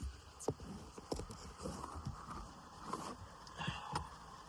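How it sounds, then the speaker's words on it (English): Rain falling around a car, with faint, scattered patter and occasional soft taps against a low background. "It's raining."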